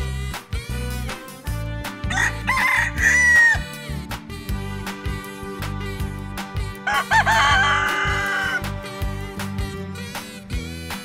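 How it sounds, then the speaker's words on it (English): A rooster crows twice, in two loud, drawn-out calls spaced several seconds apart, over steady background music, in a muddy farm-animal sandbox setting. "who give us morning call every day. And this rooster is a very cute little and very entertaining, beautiful voice."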